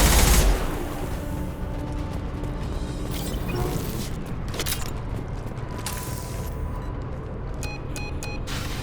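Gunfire in the video game Mass Effect 2, scattered shots and mechanical clanks over a steady rumbling game background, moderately loud with a louder burst at the start.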